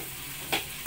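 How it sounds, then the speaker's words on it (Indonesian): Spice paste for Balinese jukut kakul, a snail dish, sizzles steadily in a hot pan, with two brief bursts of louder crackling as it is stirred. "Ini bumbunya kita masukkan ke penggorengan. Berbunyi ya, berbunyi, terus kita goreng berbunyi."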